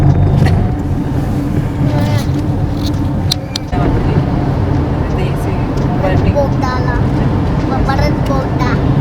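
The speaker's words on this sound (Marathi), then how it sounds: "रस्ता ओला आहे तर सांभाळून चालवा गाडी" A car drives steadily on a wet expressway through a foggy mountain ghat, with a continuous road rumble and tire hiss, while people talk inside over the engine noise.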